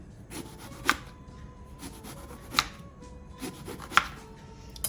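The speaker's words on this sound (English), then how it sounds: "the aubergine I'm just going to cut round circles, a few of them" A knife slices an aubergine into rounds on a board, giving three or four crisp, separate chops at a slow, uneven pace amid quiet kitchen handling.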